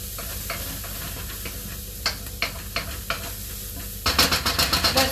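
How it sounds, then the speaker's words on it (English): Tangy fried rice frying in a pan under a steady sizzle, with spatula scrapes at irregular intervals that turn into a quick run of brisk stirring strokes near the end. "I'm just going to give it a good stir"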